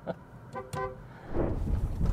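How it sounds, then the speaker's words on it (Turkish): A couple of short car horn toots from a 2025 Hyundai Ioniq 5 sound close by, followed by a rising engine rumble of a vehicle nearby. "Bir kornaya basalım gelmiştir belki kızım."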